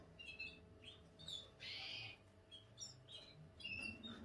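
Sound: pigeon chirping while being handled

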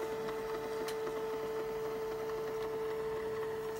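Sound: camcorder tape rewinding

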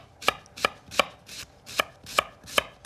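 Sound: knife slicing shallots

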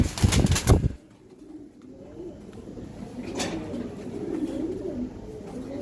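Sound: Giribaz tournament pigeon cooing

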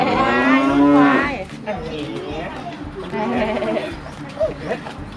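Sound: buffalo on a farm

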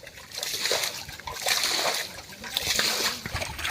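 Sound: bailing water from a riverbank pool to catch fish

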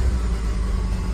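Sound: stock Ford F150 5-liter V8 engine running

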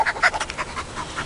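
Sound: dog panting

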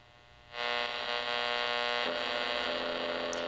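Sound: radio interference hum from ViewSonic CRT monitor

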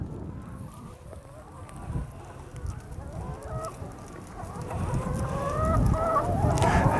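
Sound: laying hens clucking

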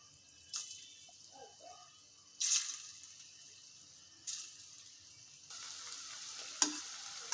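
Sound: bitter gourd pieces deep frying in oil

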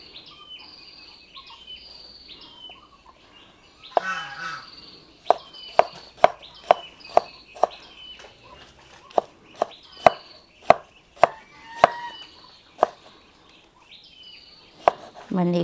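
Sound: knife chopping tomatoes

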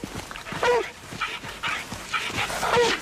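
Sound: dog whimpering while tracking a scent

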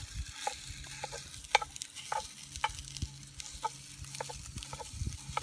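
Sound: Jimmy Dean sausage being scrambled and browned in Dutch oven

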